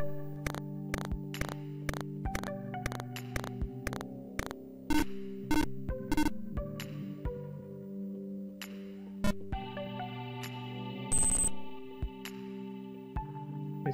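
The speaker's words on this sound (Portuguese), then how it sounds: "eu vou fazer um sonzinho aqui, toda vez que eu atirar, esse é o som do tiro." An Arduino buzzer in a simulated 8x8 display space game beeps out shooting sound effects, with a quick series of sharp electronic tones followed by longer warbling buzzes, thin and close.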